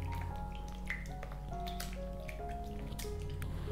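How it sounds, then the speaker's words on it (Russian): Sourdough starter is stirred with water in a bowl, producing wet squishy clicks and small drips in an irregular rhythm, quiet and close. "Перемешиваю опару с водой."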